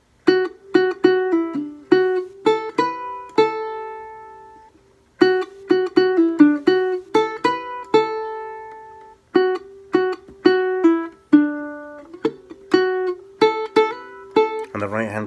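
A ukulele plucks the first part of the Highland Reel in quick single-note phrases, repeated with short pauses between, each passage closing on a ringing sustained note, close and clear without talk.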